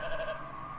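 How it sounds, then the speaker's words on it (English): A single sheep bleats in the video game Albert and Otto, a short, wavering cry heard alone and fairly close for under a second. "The sheep screamed."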